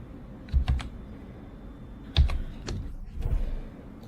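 Bursts of typing on a computer keyboard, close and crisp, in three short clusters of keystrokes separated by quiet pauses.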